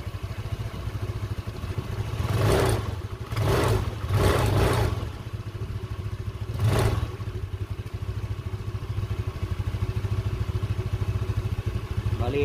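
A Euro Keeway 125 motorcycle idles steadily after a repair to its dry, worn torque drive, a low even engine hum with a few short louder revs, heard close without talk.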